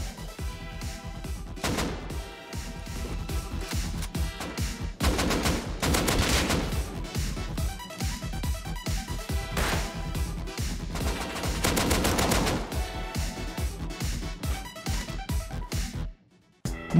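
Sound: Thompson gunfire in the video game Rust

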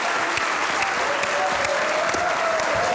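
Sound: audience applause welcoming a performer

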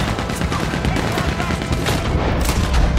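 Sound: turret gunfire in the video game Red Dead Redemption 2

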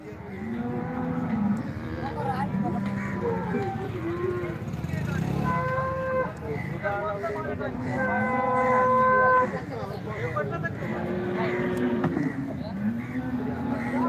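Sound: cows mooing at a cattle market

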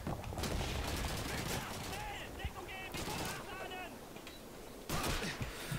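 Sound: gunfire in video game Call of Duty 2

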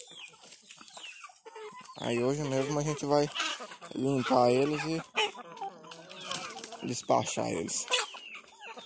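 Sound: rooster clucking

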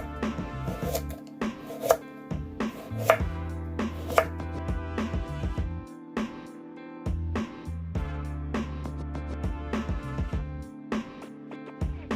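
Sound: chopping carrots

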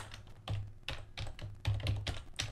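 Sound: typing on a computer keyboard

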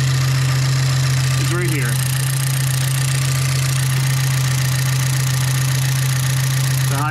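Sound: car engine running at idle

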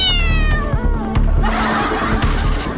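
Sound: cat meowing

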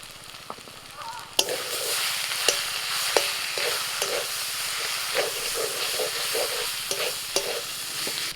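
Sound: frying goat fat with ginger and garlic

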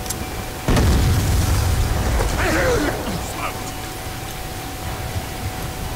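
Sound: frag grenade explosion in the video game Black Ops 2

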